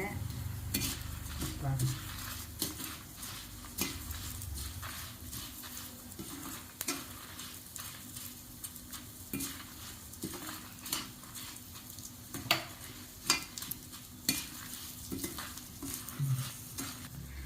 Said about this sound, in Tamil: இப்போ புளி போட்டுக்கிறோம் அதையும் வறுத்துக்கிறோம்